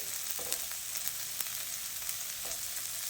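Long-cut carrot and long green chillies stir-fry in a hot pan for Schezwan noodles, a continuous close crackling sizzle with light stirring scrapes scattered through.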